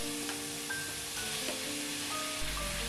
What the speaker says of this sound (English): Fry them together till the cucumber turns a bit soft.